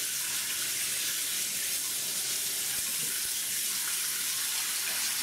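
Tap water gushes steadily into a bathroom sink while shaving, a constant loud hiss of running water with no pauses.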